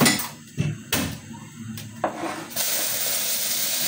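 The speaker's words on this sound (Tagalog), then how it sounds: "Pwede natin ilagay yung ating bawang at sibuyas." Garlic and onion drop into a very hot pan with a few metallic clanks of a utensil, then a loud, steady sizzle takes over and holds without letting up.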